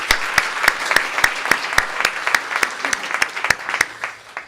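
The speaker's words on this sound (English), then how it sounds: "So we're going to record the applause and send it to her, okay?" Audience at a PechaKucha talk in Portland, Maine claps in a sparse, rhythmic pattern, with distinct sharp hand claps standing out over a lighter background of scattered applause that tapers off toward the end.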